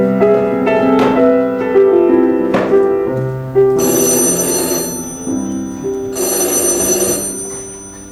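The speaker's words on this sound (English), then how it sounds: "the telephone rang" A telephone rings in a Chelsea apartment, loud, clear bell-like tones repeating in bursts with nothing else heard around them.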